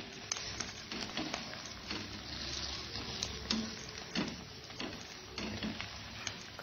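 Egg paratha roasting in a hot pan until crisp on both sides, a steady close sizzle with scattered crackles and light scraping, no voices.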